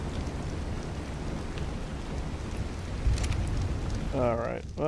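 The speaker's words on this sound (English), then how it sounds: "Of course it starts raining." Rain in the video game Ark: a dense, steady hiss of rainfall throughout, with a brief low thump near the middle and a voice talking briefly toward the end.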